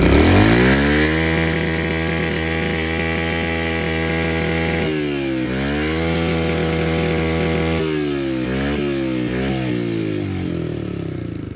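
A 2005 Kawasaki KLX 110 dirt bike engine idles steadily close by, its revs rising and falling in a couple of throttle blips, continuous and loud with no talking.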